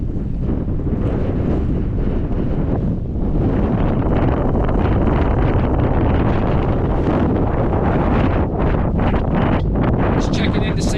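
Heavy wind buffets the microphone in loud, continuous roaring gusts while snowing at Kicking Horse ski resort, drowning out everything else.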